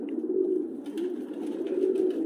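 Tumbler pigeons coo in the Nakhalovka district of Tbilisi, Georgia, a close, steady, low throaty cooing that rolls on continuously with no talk over it.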